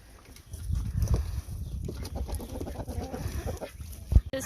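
Farmyard chickens cluck in a steady low chatter, with a Copper Marans rooster among a flock that includes a Silver Laced Wyandotte and a Golden Polish, and a louder burst near the end.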